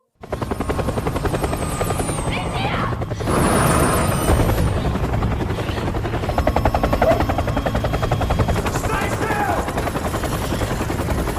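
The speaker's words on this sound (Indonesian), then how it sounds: "tiba-tiba aja mereka mendengar adanya helikopter" In a film scene, a helicopter beats with a loud, steady rotor chop that swells as it approaches and persists throughout, with a few sharp bursts layered over it.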